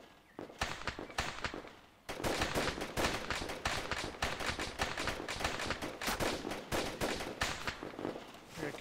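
Dense, rapid gunfire in a military-style shooter game, near and loud, firing almost continuously in bursts after a brief opening and a short pause around two seconds.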